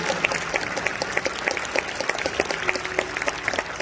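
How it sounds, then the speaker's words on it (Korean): A crowd claps steadily at a church school graduation ceremony to honor seventeen graduates receiving diplomas, a full, continuous wash of applause with sharp individual claps standing out. "졸업장을 받은 우리 17명의 졸업생들 박수로 축하해 주시면 감사하겠습니다."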